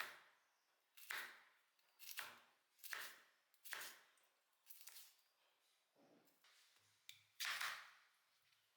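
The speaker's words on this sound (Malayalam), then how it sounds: "ഇപ്പോൾ ഇതാ പാവയ്ക്ക നമുക്ക് കനം കുറച്ച് വട്ടത്തിൽ അങ്ങോട്ട് നുറുക്കിയെടുക്കാം." A knife slices bitter gourd into thin rounds on a board, about eight crisp, separate cuts spaced irregularly, quiet and close.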